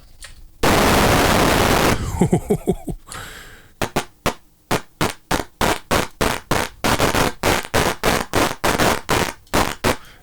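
Bursts of harsh synthesized noise from the Sylenth1 noise oscillator while building a Frenchcore kick: first a sustained hiss, then a rapid string of sharp, evenly spaced pulses, loud and upfront.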